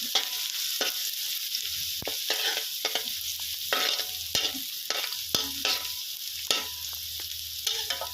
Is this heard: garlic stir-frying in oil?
yes